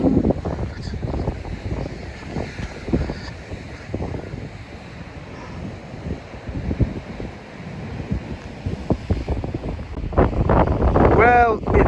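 Strong wind buffets the microphone while heavy surf rolls and crashes on the rocky shore at Black Point, Narragansett, Rhode Island, a continuous loud roar that swells near the end.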